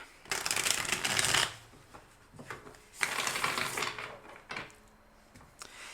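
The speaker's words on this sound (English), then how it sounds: "I will shuffle first." A deck of tarot cards is shuffled by hand in a quiet room, with two longer riffling bursts and a few shorter ones, close and soft, with no talking.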